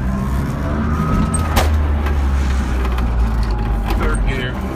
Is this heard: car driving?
yes